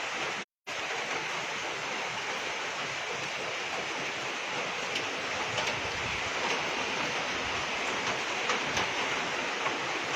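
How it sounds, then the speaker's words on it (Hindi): Heavy rain falling in Dharamshala during a sudden weather change, a dense steady hiss that stays loud and even throughout, with only a brief dropout near the start. "यहाँ पर बारिश जो है वो झमाझम शुरू हो चुकी है"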